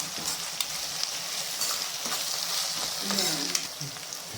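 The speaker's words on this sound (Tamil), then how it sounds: "இந்த கப்பில் இன்னும் ரெண்டு கப்பு ஆயில் ஊற்றிட்டு நல்லா வதக்கிக்கலாம்" Ingredients sautéing in oil in a pan for citron (narthangai) rice give a constant close crackling sizzle, with occasional scrapes and clicks of a stirring spoon and no speech.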